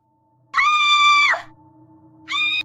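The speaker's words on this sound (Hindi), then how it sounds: "कुएं से सिर्फ उसकी चीखें गूंज रही थी।" A woman's high, piercing scream rings out loud and close, a long cry followed by a shorter second burst after a pause, over a low hum, as in a dramatized fall into a village well.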